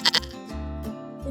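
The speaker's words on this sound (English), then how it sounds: "If you said goat, you are correct." A goat bleats in two short, sharp bursts near the start, followed by a longer, wavering bleat with strong harmonics, heard close and alone.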